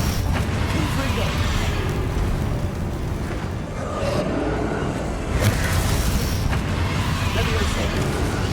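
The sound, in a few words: Confringo explosive spell blasts in video game Hogwarts Legacy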